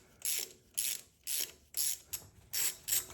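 Ratchet wrench loosening a spark plug in cylinder 1 of a 2013–2015 Toyota RAV4: seven quick, evenly spaced bursts of clicking, close and crisp, with no talk.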